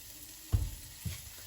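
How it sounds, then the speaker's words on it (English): Bacon fries in oil in a pan, its fat rendering with a soft steady sizzle, punctuated by two low thuds or stirring bumps about half a second apart, no voices. "half the bacon in. And just render it out a little bit."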